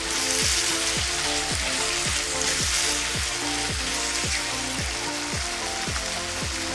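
Beef coated in ground coriander, cumin and salt sizzles steadily in a pan, a loud continuous frying hiss with regular scraping strokes from stirring throughout.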